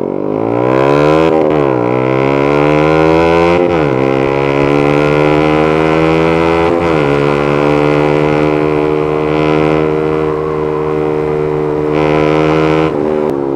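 A Yamaha Sniper 155 motorcycle engine revs hard toward high RPM, loud and close, with repeated surges and brief dips as the throttle is blipped, each rising to a sustained high-pitched roar, no talk.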